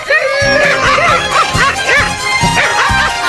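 A cartoon dog barks repeatedly at night in a Hindi-dubbed Doraemon episode, a rapid rhythmic series of loud, close yips and bow-wows with a voice mixed in.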